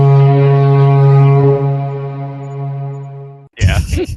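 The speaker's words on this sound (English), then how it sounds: "then there's a foghorn in the distance" A ship's foghorn sounds out at sea, one long steady low blast lasting over three seconds that fades slightly before a burst of other noise cuts in.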